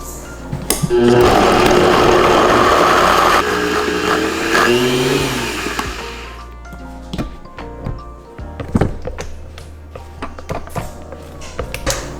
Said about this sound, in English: let's hope my blender will blend it well